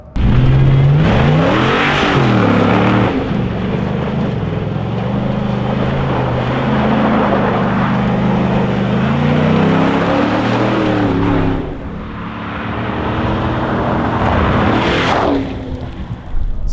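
A 6.2-litre Ford Raptor with a Corsa Sport cat-back exhaust gives a loud rev near the start, then holds a steady, deep exhaust drone. A second burst of throttle follows near the end. Wind rush is heard throughout.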